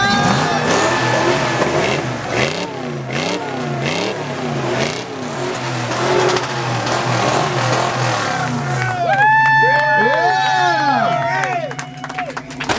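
Several Ford Bronco engines rev repeatedly at a Bronco enthusiast gathering, rising and falling in loud, overlapping sweeps over a busy crowd, with people talking nearby.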